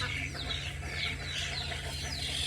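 Farm turkeys let out warbling, descending gobbles in quick succession over a low steady hum, close and fairly loud.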